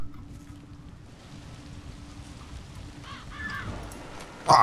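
Crow caws from the Zombi video game set in Buckingham, a few harsh calls rising late over a steady low wind-like ambience, ending in a sudden loud burst.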